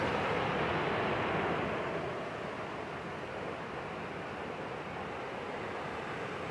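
Russell Creek rushing along a Pacific Crest Trail hike near Milk Creek, a steady broadband roar of flowing water, loud and continuous, easing slightly after the first seconds.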